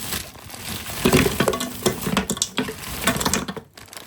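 Chicken and spinach being stirred in a pot for palak gosht, wet scraping and clattering of a spoon with soft sizzling and moist squelches, irregular and close.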